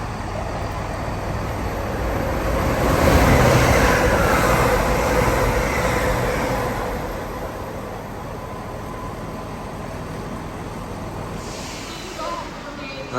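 A Lumo passenger train passes fast near a rail line, a rising and falling roar of wheels and air rushing by, swelling loud then fading to a steady rumble.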